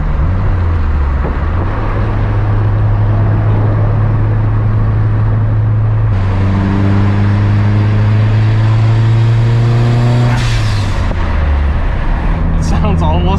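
A Mitsubishi Evo engine accelerating while driving, a loud steady in-cabin drone that rises in pitch through the gears, with a shift partway through, heard under continuous talking.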